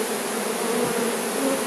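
Honeybees returning to their hive through the grass in spring, a steady, close, continuous buzz of many insects droning at an even level throughout.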